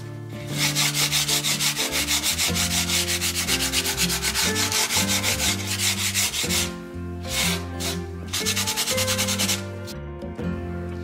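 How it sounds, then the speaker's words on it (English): Steady, rhythmic strokes of sandpaper rub across a furniture transfer on a painted wooden stand, distressing it to look worn. The rasping runs continuously and close, with tonal music playing beneath. "you can actually sand these transfers a bit just to make them look kind of worn"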